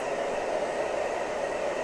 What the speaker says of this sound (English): I just have this hair dryer on low and on warm.